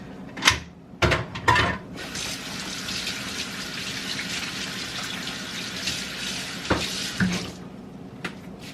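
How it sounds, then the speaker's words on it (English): Tap water runs steadily into a kitchen sink while a dish is washed by hand, with clattering knocks and splashes at the start and near the end over the continuous gushing stream. "let me put this in the sink. I always hand wash this."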